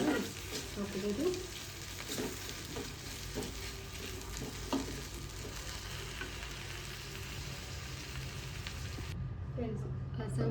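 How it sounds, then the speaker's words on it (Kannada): Oil heats in a pan for a sambar tempering, giving a soft, steady sizzle and crackle with a few light clinks of utensils. The sound is fairly quiet and constant throughout. "ಸಾಂಬಾರು ಒಗ್ಗರಣೆಗೆ ಇಟ್ಕೊಂಡಿದ್ದೀನಿ. ಪ್ಯಾನ್ ಇಟ್ಕೊಂಡು 1 ಟೇಬಲ್ ಸ್ಪೂನಷ್ಟು ಆಯಿಲ್ ಹಾಕ್ಕೊಂಡಿದ್ದೀನಿ"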